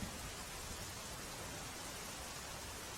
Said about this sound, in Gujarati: કચ્છમાં ધોધમાર વરસાદ, અવિરત વરસાદ વરસી રહ્યો છે